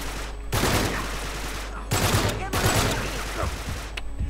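Enemy gunfire in the video game Uncharted 3 crackles in dense, sustained bursts, loud and close, with brief lulls between volleys.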